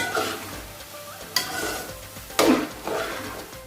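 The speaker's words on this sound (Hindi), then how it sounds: "अब हम इसमें चावल डाल देंगे। चावल डाल के इसको अच्छा सा मिक्स करेंगे।" Rice stirred into melted sugar in a pot for mutanjan, a sweet rice dish, giving a steady scraping stir under a soft sizzle, with two sharper knocks of the spoon against the pot.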